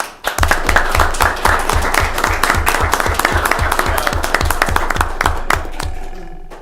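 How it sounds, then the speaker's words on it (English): An audience bursts into loud, close applause, with hands clapping in a steady, rhythmic beat that lasts several seconds before tapering off at the end. "Give Steve a round of applause"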